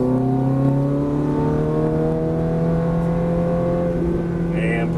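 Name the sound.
Ferrari F430 engine accelerating hard out of corner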